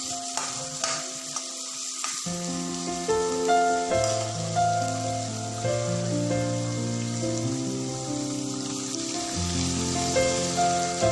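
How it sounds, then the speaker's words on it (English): Mushrooms and baby corn stir-fried on high flame give a steady sizzle and frying hiss under background music, with no talking. "Now add the mushrooms. Stir fry this also for 2 to 3 minutes. Keep it on high flame and keep on stirring it."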